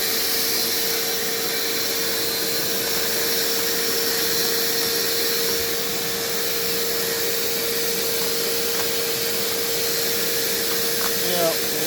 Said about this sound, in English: the one thing this procedure kind of requires is something like a shop vac or another vacuum with a hose